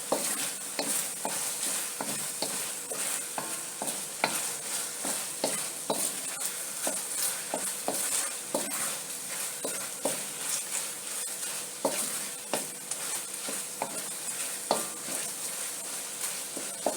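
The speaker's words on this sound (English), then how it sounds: "I'm adding my onion and sweet pepper to it." Onion, sweet pepper, scallion and thyme frying in a pan, with a steady sizzle broken by repeated sharp scrapes and clacks of a stirring utensil, close and continuous with no talk.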